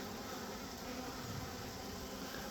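A swarm of Gaster bees humming during a swarm rescue, a steady, faint, continuous drone from many bees with no talk over it.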